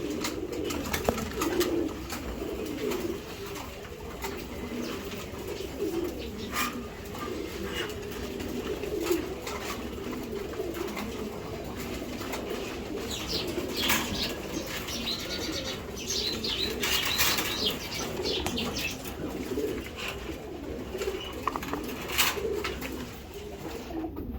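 Racing pigeons in a loft coo steadily, with bursts of wing flapping and scattered chirps throughout, fairly close and continuous, with no talking.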